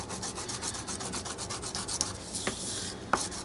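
A pencil turns in a small handheld sharpener, giving a steady close scraping and grinding rub with a few small clicks, faint and alone.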